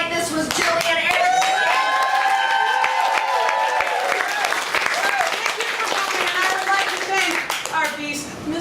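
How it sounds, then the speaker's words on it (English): Audience applause for a co-producer and performer at a live stage show, loud dense clapping with cheering and voices sustained throughout, then easing slightly near the end. "Guys, big round of applause for my co-producer and performing for you tonight."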